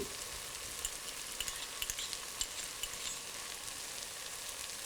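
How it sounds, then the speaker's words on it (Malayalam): Garlic, ginger, green chilli and curry leaves sauté with softened onion for a beef curry, a steady close sizzle with soft irregular stirring clicks and no voices. "പച്ചമുളക്, 2 തണ്ട് കറിവേപ്പില എന്നിവയിട്ട് നന്നായിട്ട് വഴറ്റുക."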